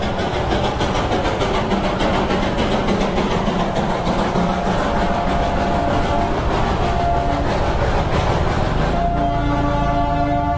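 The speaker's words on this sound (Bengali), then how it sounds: "টয় ট্রেনের দর্শন হয়ে গেল, যেটা একটা আমাদের বাংলার ঐতিহ্য" Darjeeling toy train on the hill railway near Darjeeling rumbles steadily past close by for about ten seconds, a loud, continuous mechanical roar with rattling wheels and no speech.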